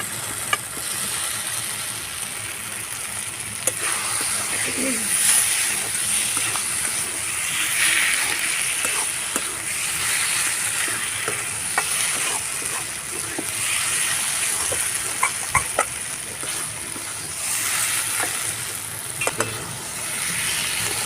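Fried potatoes being sautéed in oil with spice paste for a jackfruit kofta curry: a loud, steady sizzle with frequent scraping and clinking of a spoon against the pan, close up, with no talking.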